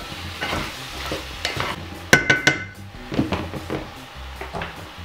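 Tomatoes being stirred into bozbash in a pot, a utensil scraping and clacking against the metal in a run of sharp knocks amid a soft background sizzle, close and fairly loud with no talk.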